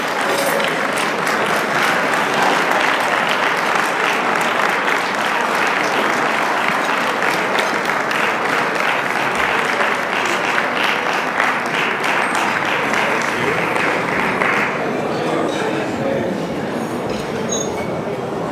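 A large gala audience at a 25th anniversary celebration applauds to welcome its president, Nicholas Paul: loud, dense, continuous clapping and cheering that holds steady for nearly twenty seconds and eases slightly near the end.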